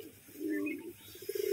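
Pigeons at a pigeon sale cooing softly, a faint low rolling coo followed by a quick pulsing run of throaty notes, quiet and fairly close.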